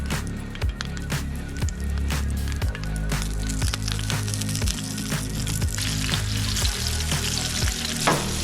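Food frying in oil on a sloped barbecue outdoors, a loud continuous sizzle and crackle close up, broken by sharp scrape and clatter sounds as it is moved around.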